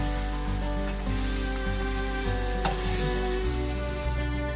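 Pieces of chicken fry in a pan of oil for a quesadilla filling, a dense, continuous close sizzle with a light stir partway through, steady and loud, with no voices.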